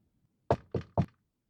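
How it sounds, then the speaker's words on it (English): Three firm knocks on a door, evenly spaced and close, each a short hollow thud, with silence before and after. "Someone knocked at the door."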